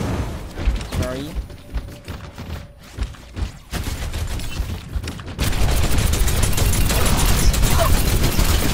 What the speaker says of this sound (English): I'm missing all my shots, bro.